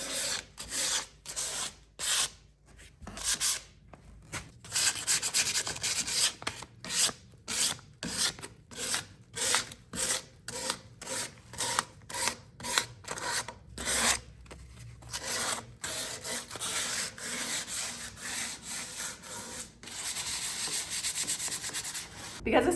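Painted oak table top hand sanded with 320-grit sandpaper to distress milk paint, a close rhythmic rasping of quick back-and-forth strokes with brief pauses, steady and fairly loud.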